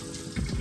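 Tap water runs into a kitchen sink while something is rinsed off during fried chicken preparation, a brief close gush with splashing as the flow is disturbed.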